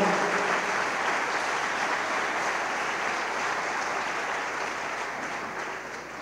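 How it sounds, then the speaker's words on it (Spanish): Loud, sustained applause from a church congregation during a Christian worship conference, steady clapping filling the room for several seconds and slowly fading toward the end. "Dale un aplauso fuerte,"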